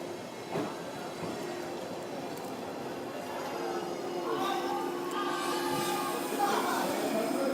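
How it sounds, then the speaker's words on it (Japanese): A wrapped train, the Shinano Railway rapid Natsumachi service, pulls into platform 1 of a station, its engine hum and squealing brakes building steadily over the platform ambience, with brief voices nearby. "ラッピング列車到着です。"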